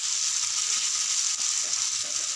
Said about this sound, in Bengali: পাবদা মাছ বেশি ভাজতে হয় না, আমি একটু একটু উল্টিয়ে উঠিয়ে দেব।